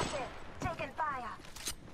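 Gunfire in the video game Apex Legends, a few quick bursts of shots amid game effects, mixed with voice chatter in the background.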